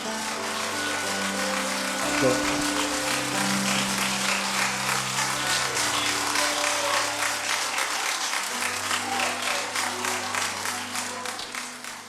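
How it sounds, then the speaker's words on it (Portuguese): A church congregation clapping along in rhythm while praising, a dense steady patter of many hands mixed with sustained music and voices throughout. "Aplauda o Senhor, aplauda o Senhor. Aplauda."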